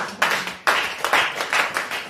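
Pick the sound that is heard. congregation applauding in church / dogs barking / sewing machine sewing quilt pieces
congregation applauding in church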